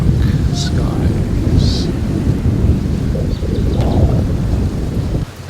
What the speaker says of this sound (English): you can probably see the rain a bit better now